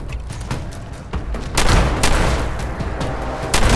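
Shotgun blasts in Fallout 76, a few loud booming shots spaced over a few seconds amid other gunfire noise, close and heavy, with no talking.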